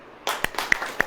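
An audience at a Hindi-language church service claps, a few sharp claps spaced apart rather than full applause, brief and fairly close.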